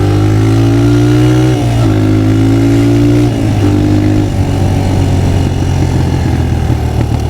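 A Suzuki DRZ125 dirt bike's small single-cylinder engine runs steadily while being ridden around a neighborhood, its pitch rising and dropping through gear changes, loud and close throughout.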